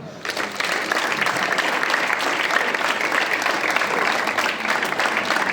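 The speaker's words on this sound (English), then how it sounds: "Clap." Students clapping together during a school assembly drill, a sustained, even burst of many hands that starts after a short pause and holds at a steady level, moderately loud, with no talking.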